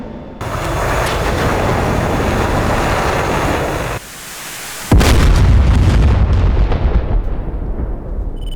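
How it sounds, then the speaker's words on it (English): A HARM anti-radiation missile fires from an F-16C in the DCS combat flight simulator: a steady jet roar, then a sharp blast at launch followed by a loud, fading rushing whoosh as the missile departs. "Let's shoot off this harm."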